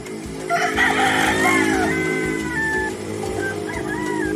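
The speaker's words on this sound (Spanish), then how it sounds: "El gallo." A rooster crows once, a loud, drawn-out cock-a-doodle-doo with a rising then falling wavering call, followed by a few softer trailing notes.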